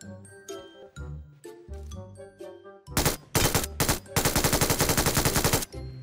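Automatic gunfire from PUBG Mobile follows a stretch of tinkling game chimes, with loud rapid bursts in the second half, the last one long and continuous, then an abrupt stop.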